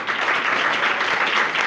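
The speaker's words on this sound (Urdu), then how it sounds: "برکت ملی ہے تو تالیاں بجاؤ" A congregation claps steadily and densely at a church service, a continuous wash of applause without pauses throughout.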